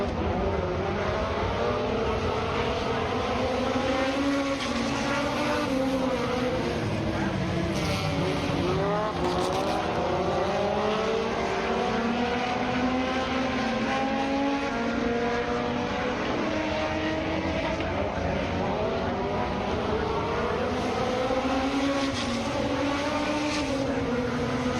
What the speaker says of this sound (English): Philip Wallace, was in the number 11 car racing behind us as we were talking